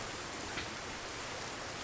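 Rain falls in the survival game Sons of the Forest as a quiet, even hiss with a faint wind-like wash, unbroken and with no voices.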